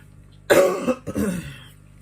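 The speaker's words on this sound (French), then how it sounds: "je tousse encore un peu" A person close by gives one harsh cough followed by a second, throatier cough, as if clearing the throat.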